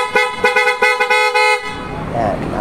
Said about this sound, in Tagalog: PIAA Auto Style horn mga boss.